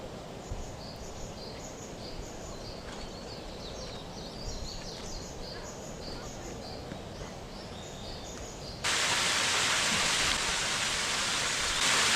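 River water flows in a continuous, soft rushing wash. Faint high chirps sit above it before the flow abruptly becomes louder and brighter for the final few seconds.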